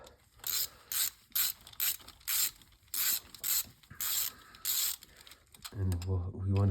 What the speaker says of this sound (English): This is purely going in by hand with a small ratchet.